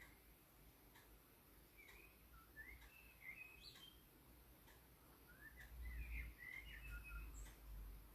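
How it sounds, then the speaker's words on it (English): Faint birds chirp and trill in short scattered phrases over a soft outdoor hiss, with a low rumble growing toward the end. "You can still hear the birds singing."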